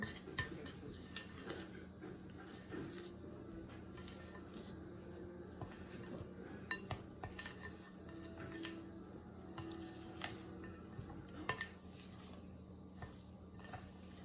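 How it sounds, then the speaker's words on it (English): A spoon taps and scrapes against a mixing bowl while butter and egg are stirred into cookie dough, giving faint, uneven clinks and knocks at close range with a quiet background. "And now it's time to mix. So this is the fun part, all the mixing. We're going to stir, stir, stir."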